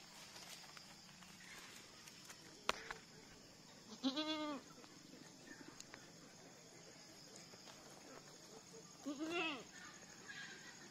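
A goat in labour bleats twice, close and clear, with a few faint knocks and rustles around the calls.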